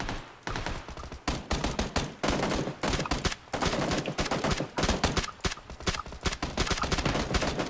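A Tommy gun fires in a first-person multiplayer shooter, rattling off dense, rapid automatic bursts with short gaps between them, loud and close throughout.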